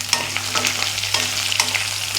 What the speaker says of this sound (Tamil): இதை சேர்த்துட்டு கொஞ்சம் நேரம் வதக்கலாம், கொஞ்சம் சாஃப்டாக வரட்டும்